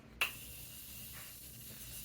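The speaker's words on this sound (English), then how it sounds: "I'm gonna go with some more setting spray." Morphe Continuous Setting Mist setting spray gives one sharp, close spritz followed by a long, even hissing mist that fades out, then a fainter second puff, all without talk.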